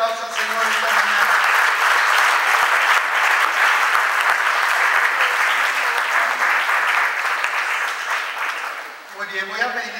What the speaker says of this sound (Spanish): Dale un fuerte aplauso al Señor esta mañana.